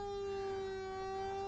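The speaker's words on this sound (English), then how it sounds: "Nice siren effect." A synthesizer siren effect driven by an Emerson LFO, a steady electronic tone with bright stacked harmonics wavering continuously and loudly, heard alone with no voices.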